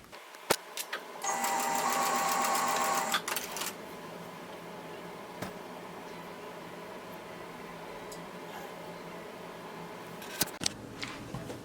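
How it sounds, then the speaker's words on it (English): A sewing machine whirs in a steady run of stitching for about two seconds, then stops; afterwards only faint clicks and light handling noises remain. "we're gonna go to our sewing machine and sew along the two long edges"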